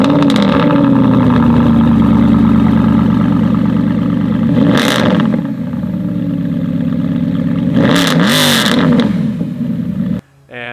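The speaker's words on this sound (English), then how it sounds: "This thing sounds like American Muscle." A purple German-built supercar with gull-wing doors revs its engine loudly and continuously, a deep muscle-car-style roar with two sharp throttle blips, ending abruptly.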